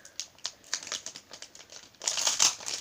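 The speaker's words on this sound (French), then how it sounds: "on va commencer avec les boosters Mew Shiny. Attendez, je vais les ouvrir." Foil Pokémon Mew Shiny booster pack being torn open by hand, a run of crisp crinkles and rustles in short bursts, swelling into a louder, denser crackle of foil toward the end, with no speech.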